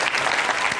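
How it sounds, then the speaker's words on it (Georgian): A television studio audience claps in a short, dense burst of applause, steady and fairly close, with no speech over it. "მაგრამ ტაში არ არის. სად არის ტაში?"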